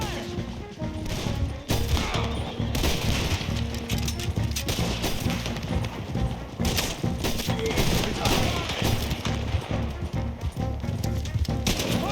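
Gunfire in the Red Dead Redemption 2 video game: repeated shots and volleys crack through a busy battle scene with hoofbeats and clatter, while characters shout and talk throughout.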